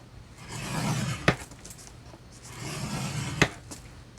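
A tool scores a line on paper for a lapbook, producing two rough rasping strokes, each ending in a sharp tap, close and isolated in a quiet room.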